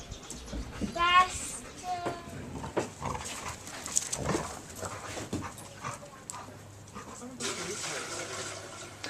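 Dogs racing and playing at Newsport, with brief yelps and whimpers and scuffling through the middle, under children's chatter and a noisy outdoor background.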